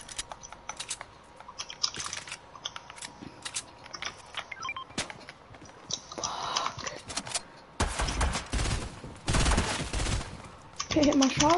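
Fortnite gameplay gunfire: scattered sharp shots and rapid bursts crack irregularly, some louder dense volleys near the end, with voices chatting over the action.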